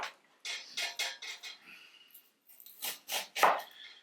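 A knife chops an onion on a cutting board in crisp, close strokes: a quick run of about five chops, a short pause, then another cluster of sharper cuts.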